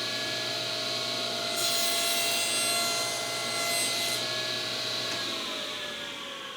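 A table saw fitted with a thin-kerf blade cuts through a piece of plywood: a steady close whine from the running saw, with a brighter rushing burst of cutting in the middle, then the blade noise carries on alone.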